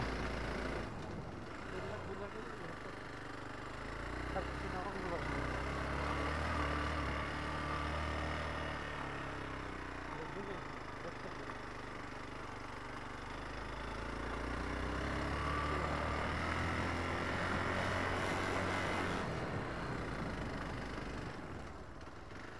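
A motorbike engine rumbles steadily through a long stretch of rough off-road riding in fog and drizzle near Mangzing, North Bengal, its low drone swelling and easing without a break.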